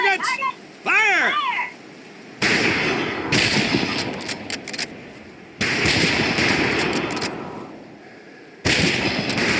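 Rifle fire crackles in rapid volleys at a firing range in the video game Medal of Honor Pacific Assault, bursts of shots repeating after brief pauses, with a voice heard at the start before the shooting.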